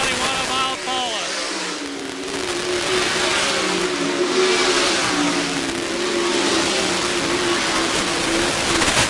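Race cars roar around the track at State Fair Speedway, with steady revving engines and a passing swell, and an announcer calls the race throughout.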